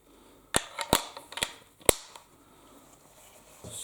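Sharp metallic clicks and snaps as a wax-finished gun is taken apart by working a lever underneath, about half a dozen distinct close knocks over a quiet background.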